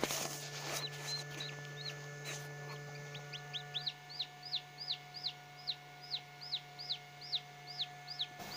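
A newly hatched chick in an egg incubator gives a series of thin high peeps, evenly spaced and repeating steadily, over a constant mechanical hum.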